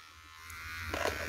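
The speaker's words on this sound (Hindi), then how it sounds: "उसके बाद ट्रिमर आ गया जी," An electric hair trimmer runs with a steady, low mechanical buzz, close by and continuous, growing slightly louder toward the end.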